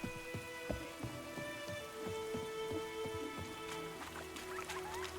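Rain in The Witcher 3: Wild Hunt patters on a surface with scattered distinct drops, a continuous close wash of sound with no voices.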